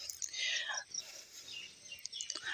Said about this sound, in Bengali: আর এদিকে পাখির কিচিরমিচির ডাক